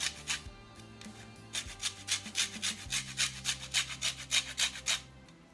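A lime is grated against a zester in a rhythmic series of close, dry rasping strokes, about a dozen in quick succession, with a faint low hum underneath.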